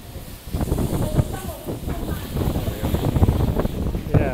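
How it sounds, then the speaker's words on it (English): Typhoon wind pounds a microphone on a Hong Kong waterfront, a steady loud rumbling roar with rough buffeting gusts, while a person speaks over it. "Whoa, it's windy."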